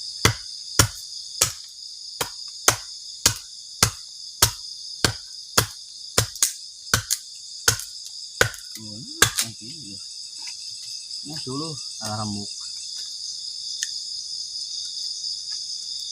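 Crickets chirp loudly at night at a campsite, a dense, steady high-pitched chorus. Evenly spaced sharp clicks sound for about nine seconds, then a person briefly speaks.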